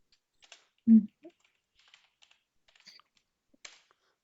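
Keyboard typing while an RMDIR command is entered on a computer: a few sparse, soft clicks and one duller thump, with quiet gaps between keystrokes and no talking.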